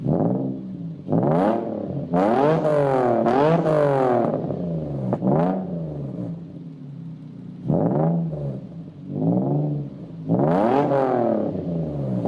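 A car with its mufflers cut off revs hard in repeated bursts, each rising and falling blat loud and close, with brief pauses between the roaring pulls.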